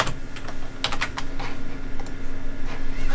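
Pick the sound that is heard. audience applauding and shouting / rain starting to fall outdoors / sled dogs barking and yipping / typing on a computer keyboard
typing on a computer keyboard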